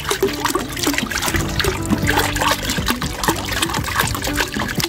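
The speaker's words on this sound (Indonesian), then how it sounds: "Kita campurkan dulu air lerinya." Rice-washing water from the first and second rinses being poured into a container for mixing organic liquid fertilizer, a steady trickling, splashing stream heard close and alone over several seconds.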